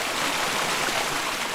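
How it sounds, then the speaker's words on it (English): A forest stream rushes in a steady, broadband wash of flowing water, close and constant, with no other sounds over it. "the water consistently flows the exact same speed, navigating its way through the forest"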